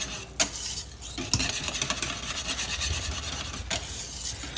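Cornstarch being stirred quickly into turkey gravy in a pan, a steady scraping, rasping utensil sound with a few sharper clinks against the pot, close and continuous with no talking.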